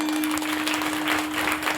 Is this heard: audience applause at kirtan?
yes